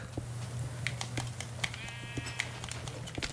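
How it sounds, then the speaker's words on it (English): Several short sheep bleats from the Minecraft video game, crisp and evenly spaced over a steady low hum, with clicks and small game noises between them. "Sheep."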